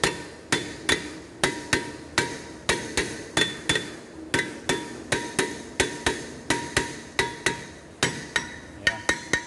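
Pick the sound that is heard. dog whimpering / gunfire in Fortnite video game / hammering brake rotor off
hammering brake rotor off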